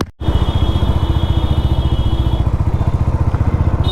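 A motorcycle engine running steadily after a service at a service centre, with a regular throbbing pulse that stays close and loud throughout after a brief start.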